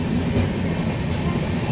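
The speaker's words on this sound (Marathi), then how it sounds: "पुढे बघा आपली ट्रेन या पट्टीवरून ट्रॅक पट्टीवर जाते, टर्न घेते छोटासा." A passenger train from Kankavli to Panvel and Diva runs along the track with a loud, steady low rumble and a continuous rolling roar, close and unbroken.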